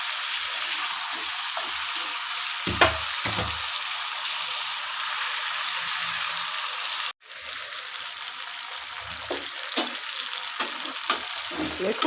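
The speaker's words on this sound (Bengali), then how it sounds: "দেখুন এটা কষছে।" Chicken kasha being sautéed in a pan, a loud steady hiss of frying that drops out for a moment, then resumes with occasional stirring scrapes and clatters.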